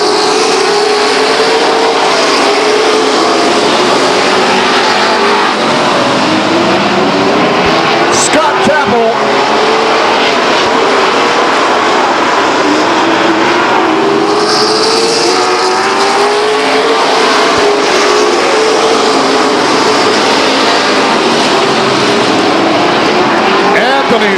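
Stock cars roar around the Stockton 99 Speedway oval after a restart, engines droning loud and continuous with rising and falling passes as the pack circles, a dense wall of racing noise throughout.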